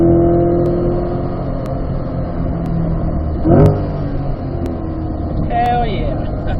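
Corvette accelerating on a race track during a high-performance school session, a loud engine roar rising and easing with a brief surge midway, heard alone without talk.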